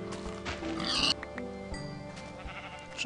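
A pig in the Minecraft video game oinks in short grunting bursts amid game sounds, with sheep-like bleats and a brief busier moment partway through, no talking.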